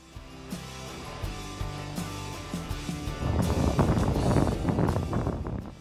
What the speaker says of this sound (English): But even though it was really bright and sunny, it was also very windy.